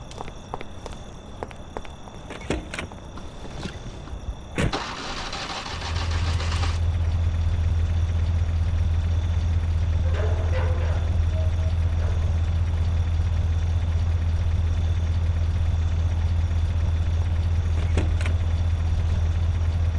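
A car engine starting in the Mafia: The City of Lost Heaven video game, with a few clicks and footsteps, then a sudden steady low engine drone that runs loud and continuous while the car drives, with no talking.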